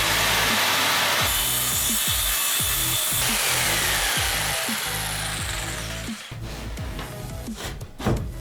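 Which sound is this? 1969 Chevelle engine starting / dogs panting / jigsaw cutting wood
jigsaw cutting wood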